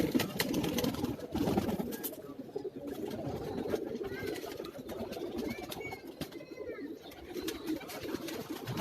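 Pigeons cooing on a rooftop in Karachi's New Rizvia Society, low soft coos repeating steadily over a close, continuous bed of rustling and ambient noise, with no talking.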